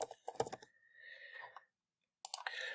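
Keystrokes tap on a computer keyboard while a name is typed for a file rule, a quick close cluster of clicks, a brief pause with silence, then a few more taps.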